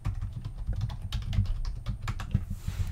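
Close, steady computer keyboard typing with quick irregular clicks and soft thumps of keys, no voices.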